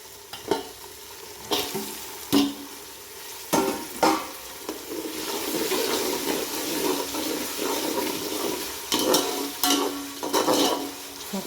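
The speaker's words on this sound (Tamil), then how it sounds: "தக்காளி நல்லா வதங்கிட்டு தக்காளி கொஞ்சம் வதங்கட்டும்" Tomatoes sautéing in a pan for vegetable kuska, a steady close sizzle with repeated clattering stirs and scrapes of a spoon against the pan throughout.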